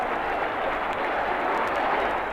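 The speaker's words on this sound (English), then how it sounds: "Listen to the crowd." A stadium crowd roaring at the finish of an athletics race, a dense, steady wall of cheering that holds at an even, fairly loud level for the whole short stretch.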